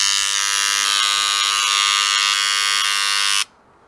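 Dremel 290 engraver running for fossil preparation, a steady loud high-pitched electric buzz held for a few seconds up close before switching off abruptly.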